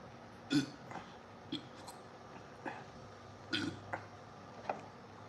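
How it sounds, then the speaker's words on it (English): A beer drinker lets out a string of low, gurgling burps, several short separate bursts spread over a few seconds, faint and close in a quiet room. "One of those burps that you think it's a burp, but it could be something else."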